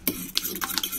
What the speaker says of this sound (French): je mélange les œufs avec le fromage blanc